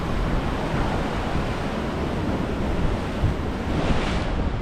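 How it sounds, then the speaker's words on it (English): Rough Gulf surf at Orange Beach, Alabama, during Tropical Storm Francine, a constant loud wash of breaking waves with heavy wind buffeting the microphone throughout, no voices. "The surf will get a little more rough, but a little breeze, a little rain"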